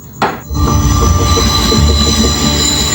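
Loud, piercing wheel squeal from a passing train right beside homes, a brief burst at the start giving way to a sustained metallic screech over rumbling rail noise.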